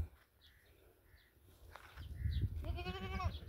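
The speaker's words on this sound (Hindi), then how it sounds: "ये बकरी भी आ रही है आपके सामने" A goat on a goat farm bleats once loudly near the end, a wavering nasal call over low rumbling background noise, with fainter animal sounds earlier.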